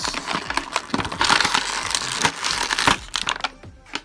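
An action figure is torn free of its plastic packaging tie with sharp, close crinkling and crackling plastic in quick irregular bursts that taper off toward the end.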